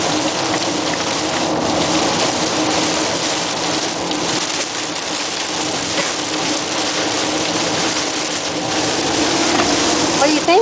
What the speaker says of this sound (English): just coming into some serious rain mere moments after getting into Georgia